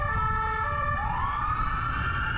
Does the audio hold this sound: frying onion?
no